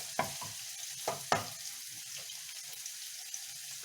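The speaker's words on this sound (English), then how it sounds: "And now the pan is sizzling in earnest, and I just add the garlic" Garlic hits a hot pan and fries with a soft sizzle, broken by a few sharp stirring clicks near the start. The sizzle then settles into a faint, steady hiss.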